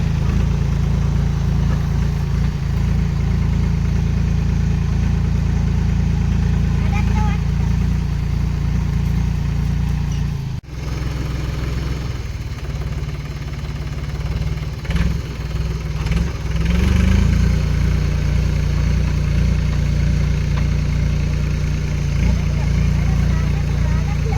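A tractor engine idles and runs continuously nearby while soil is being dug on a farm field, a loud steady low drone with a brief dip partway and a few surges, with voices now and then.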